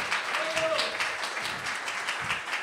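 An audience at a women's awards event applauding, giving steady, fairly close crowd clapping through the whole stretch with some voices mixed in.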